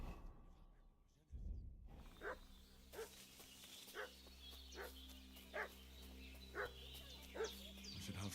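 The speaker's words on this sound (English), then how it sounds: "What's that dog making such a fuss about?" A dog barks repeatedly in the medieval world of Kingdom Come: Deliverance 2, roughly seven evenly spaced barks at moderate distance over a low ambient hum, following a brief thud.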